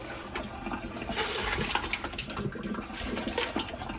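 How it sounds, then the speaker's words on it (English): Hot water from a pot of boiled eggs pours into a colander, a steady rushing and splashing drain that holds fairly even for the whole stretch, close by and with no talking. "I'm actually gonna drain the water from this right now into a colander"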